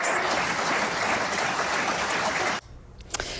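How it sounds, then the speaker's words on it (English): A courtroom crowd breaks into a sustained round of applause after a not-guilty verdict, dense clapping that fills the room and then stops abruptly, leaving a few faint sounds. "He left the courtroom to a round of applause."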